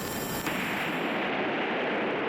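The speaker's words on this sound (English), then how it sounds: "Gunshot." A gunshot in the video game Ghostpia, a single sharp report at the start followed by a long, loud, dense rumbling wash of noise that sustains without pause and no voices.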